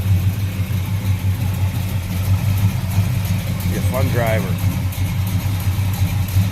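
A 1970 Oldsmobile Cutlass with a 455 V8 engine idles with a steady low rumble throughout, while a person speaks briefly over it.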